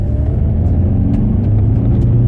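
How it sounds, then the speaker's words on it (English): An Audi pulling hard in second gear around 4000 RPM on turbo boost, a loud steady engine drone and road rumble heard from inside the car, with no speech. "so 2nd gear, 4000 RPMs, boost, no problems at all"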